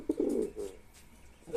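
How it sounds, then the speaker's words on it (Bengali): A one-year-old male pet pigeon cooing up close, a few soft throaty rolling coos in quick succession, with a short pause before another coo starts at the end. "দেখছেন এর ডাক দেখছেন? এটা হচ্ছে মদ্দা কবুতর।"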